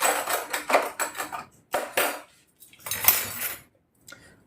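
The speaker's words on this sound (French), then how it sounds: "il faut que je prenne plusieurs cuillères" Several metal spoons clink and clatter together in a kitchen while pancakes are made with Nutella, in quick bright bursts with short pauses between, close and fairly soft.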